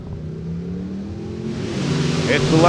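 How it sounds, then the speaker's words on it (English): A 1955 Chevy Tri-5 drag race car launches at full throttle at a hot rod drag racing event, its engine note rising and swelling louder toward the end, with a commentator talking over it. "Hits the loud pedal and off he goes."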